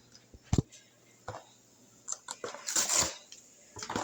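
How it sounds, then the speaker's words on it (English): Lasagna noodles going into a pot of boiling water on a home stove, heard as scattered clinks and hard knocks against the pot, sporadic and close, with light rustling between them. "my water is boiling, so it's time to add the noodles"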